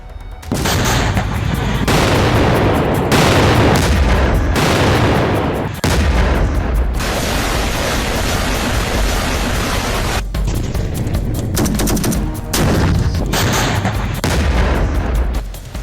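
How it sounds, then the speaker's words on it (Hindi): Explosions and gunfire from Israeli strikes on Gaza, a dense, loud barrage of booms and rapid shots running nearly continuously with a few brief gaps. "गाजा पर इजराइल ने फिर से बारूदी हमले तेज कर दिए।"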